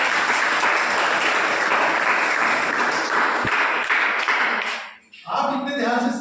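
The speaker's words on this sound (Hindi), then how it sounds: "एक बार अपने लिए जोरदार तालियां" An audience claps loudly in a classroom-style grammar lesson, a sustained, dense round of applause that fades out near the end before a few scattered claps resume.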